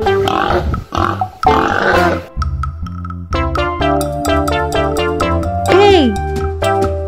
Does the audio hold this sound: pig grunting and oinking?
yes